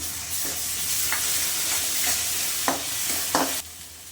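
Ginger garlic paste fries in hot oil for a chicken biryani, a steady loud sizzle with a few sharp scraping stirs of a spoon in the pan.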